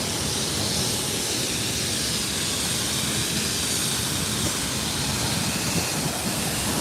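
A stopping train gives off a continuous broadband hiss and rumble, steady and close, with no speech over it.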